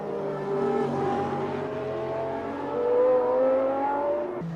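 A Lola sports racing car at Kyalami during a 1999 SportsRacing World Cup race, its engine droning steadily with rising and falling revs and tonal harmonics, swelling louder near the end as it accelerates.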